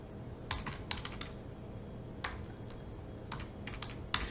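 Typing on a computer keyboard, short bursts of quick, light key clicks separated by pauses, close and quiet with no talking.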